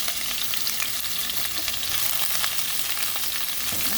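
Italian style beans frying in a pan give off a steady, close sizzle, with occasional stirring scrapes over the constant crackle.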